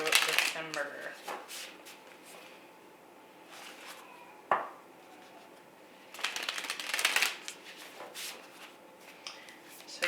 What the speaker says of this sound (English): So I'm gonna quickly get another card for each month